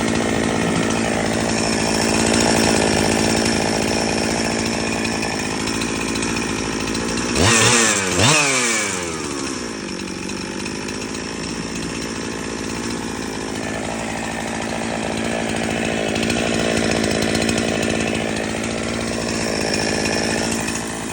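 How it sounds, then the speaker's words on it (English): Husqvarna 371xp chainsaw rebuilt with a new 52 mm piston and cylinder, running loud and close at a high steady rev, with one sharp throttle change partway through before it settles again. "But here's a clip of the chainsaw ride."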